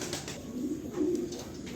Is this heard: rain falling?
no